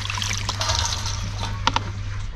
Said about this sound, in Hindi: एक बड़ा सा टब लिया, इसमें पानी भर दिया है, इसी में कई बार धोएंगे